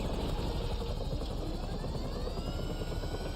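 Helicopter in GTA Online, a steady loud rotor drone and engine whine filling the scene without pause and without voices.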